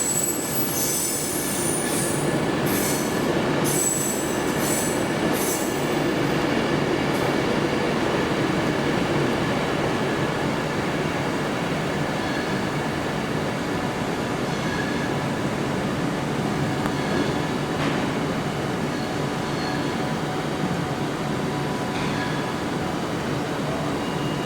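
A train pulling into a platform at London Euston station, with a long steady rolling rumble and high metallic wheel squeals early on, heard close and continuous with little talk.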